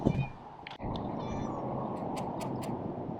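A house cat gives a few faint meows near the start, then a steady low background hum fills the rest, with brief higher squeaks toward the end and no talk.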